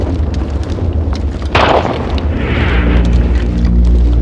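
Artillery guns fire and shells explode on a World War I battlefront, a heavy, booming blast that erupts with deep rumbling and lingering roar amid continuous low thunder of distant guns.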